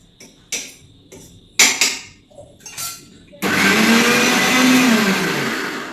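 A kitchen mixer grinder briefly pulses grated coconut, a loud close whirring roar that starts abruptly after several knocks and clatters and then winds down slightly.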